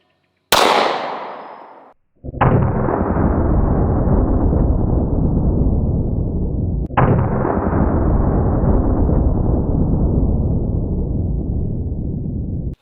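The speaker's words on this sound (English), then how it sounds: "So now it's time to step it up to the old Glock 50 cal." Two heavy gunshots from a Gun Crafter Industries Glock pistol chambered in .50 GI firing 275 grain rounds, each a loud sharp blast followed by a long rolling echo, with a brief transient just before the first shot.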